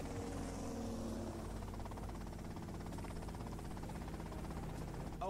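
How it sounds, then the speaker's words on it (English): A helicopter in GTA Vice City drones steadily with a continuous low rotor hum and buzz that stays even and fairly close throughout. "Okay, that's them in the chopper."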